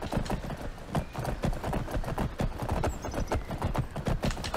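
Horse hooves clip-clopping in the video game Tarlas - Blades of Redemption, a steady close rhythmic patter of hoof strikes with a brief whinny-like note, under faint background sound.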